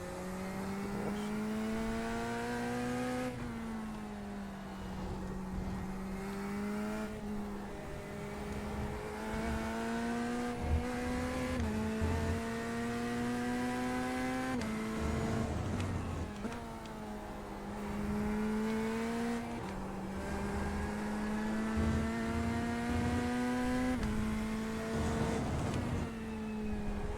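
A Porsche engine in a racing video game, holding a steady high drone with repeated rises in pitch as it revs through the gears, loud and continuous with no talk.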